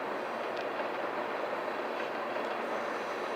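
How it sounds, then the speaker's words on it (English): A train passing at night, heard as a steady broadband rumble with faint high squeals, distant and continuous throughout, with no talking. "There's a train"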